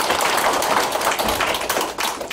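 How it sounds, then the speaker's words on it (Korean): Dense applause from a crowd fills a council meeting hall, a steady broadband wash of many hands clapping at once, sustained and fairly loud throughout without any speech over it. "다시 한번 큰 박수 부탁드립니다."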